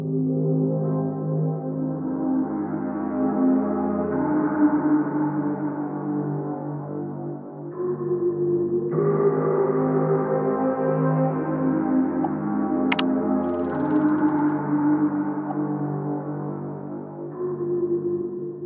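Synth pad shaped by Minimal Audio Morph EQ filter movement, its rich chords shifting in brightness and timbre as the filter pattern steps through changes, with a brief sharp high sweep midway; loud, continuous, no speech.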